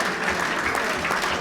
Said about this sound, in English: the applause from the diners here at the Bristol Sporting Club